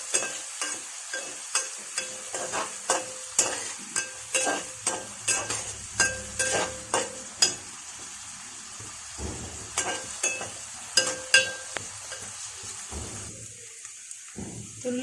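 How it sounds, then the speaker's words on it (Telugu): Onions and curry leaves fry in a pan for a snake gourd curry, with a steady sizzle under repeated scraping and clacking of a spoon stirring, close and fairly loud, with no talking. "ఆనియన్స్ కొంచెం కలర్ మారే వరకు వేయించుకోవాలి."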